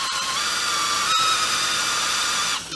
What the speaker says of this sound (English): Go ahead and drill your hole there.